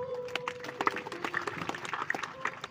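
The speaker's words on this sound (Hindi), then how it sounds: "बस ताली बजा दे इनके लिए" An audience claps for Arun Pandit at a religious discourse gathering, a brief burst of many hands forming a scattered, moderately loud patter, with a voice faintly heard over it.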